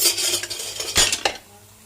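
A utensil flips eggplant in a frying pan: a few sharp metallic scrapes and clinks over a light sizzle, ending abruptly within two seconds, with no voices.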